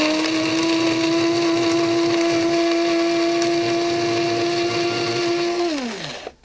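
A motor-driven grinder reduces tobacco to fine powder with a loud, steady whine that runs unbroken for about six seconds, then winds down in pitch as the motor stops.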